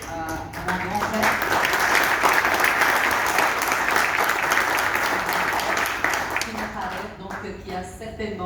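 An audience at a formal signing ceremony applauds as the microphone is handed over, a full, sustained burst of clapping that swells and then thins out, with voices talking over its fading end.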